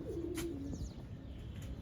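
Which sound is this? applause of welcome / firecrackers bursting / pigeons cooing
pigeons cooing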